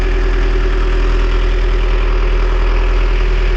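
A boat engine runs loudly and very close, a constant deep droning rumble with a steady mechanical rattle and no voices.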